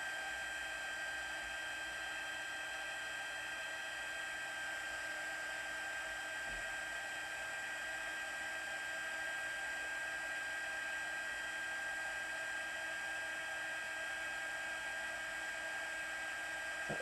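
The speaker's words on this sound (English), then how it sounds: "I always love the heat embossing on a project" Heat embossing tool blowing hot air onto a handmade Valentine's card, a steady whining whir with a constant high tone, fairly quiet and unbroken, no voices.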